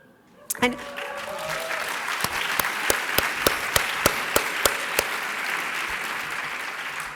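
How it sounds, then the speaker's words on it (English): Audience clapping at a 2018 international conference opening session, a burst of applause that swells quickly and holds steady, with sharp individual claps standing out near the microphone before the clapping begins to taper. "I want her to know that you guys are clapping for her"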